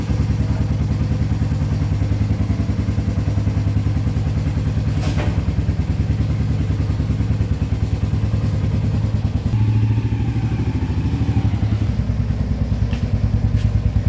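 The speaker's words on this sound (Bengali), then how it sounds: "আমরা আপাততর জন্য বাইকে বেরোচ্ছি" Motorbike ride with a steady mid-pitched engine drone and road rumble close by, a few brief clatters and thumps along the way, no talking.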